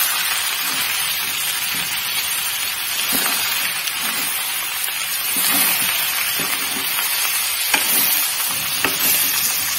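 Potato and pea curry sizzling and frying in a pan as salt is stirred in, a steady close crackle with soft scraping stir strokes throughout and no talking.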